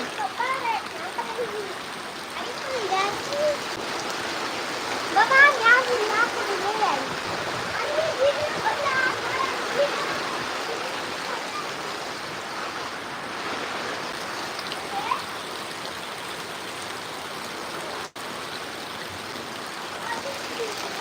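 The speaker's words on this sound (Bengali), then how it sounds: "আজকে মোটামুটি ভালো বৃষ্টি হইতেছে" Moderate rain falls with a light breeze, a steady watery rush that holds evenly throughout, with voices speaking over it in the first part.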